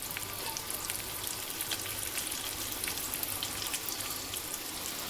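An egg mixture for anda ghotala cooks in a pan, giving a steady, even sizzle with fine crackles throughout and no voices.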